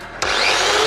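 A rotary cutting tool bites into a Honda S2000 airbox, a sudden harsh onset followed by a sustained abrasive whine with a slowly rising pitch, loud and close with no talking.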